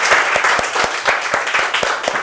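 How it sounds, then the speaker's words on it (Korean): An audience at a lecture claps vigorously, a full, bright round of applause with strong, crisp individual claps standing out in a quick, roughly regular rhythm. "이 우람한 박수소리를 들으니까 막 기분이 좋아진다"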